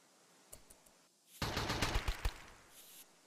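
Gun turrets firing in the video game RimWorld: a few light shots, then a dense rapid burst of automatic gunfire lasting about a second and a half.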